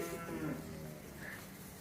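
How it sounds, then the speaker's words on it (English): A cow moos in a dimly lit barn while dry cows and a calf are being checked, a single drawn-out low call filling most of the moment at moderate distance. "Got a cow and calf here, Jack."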